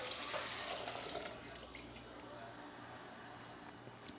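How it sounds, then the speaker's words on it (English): Used frying oil poured from a stir-fry pan into a metal bowl, a faint, steady liquid trickle that is fuller at first and then thins out, heard alone. "we're gonna go ahead and dump off this oil into a metal bowl"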